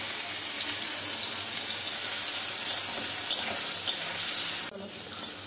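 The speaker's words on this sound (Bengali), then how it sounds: "এরপর আমি উচ্ছেটা ভেজে নেব।" Bitter gourd frying in oil in a pan, a steady broadband sizzle with faint clinks that cuts off abruptly near the end, then a quieter hiss.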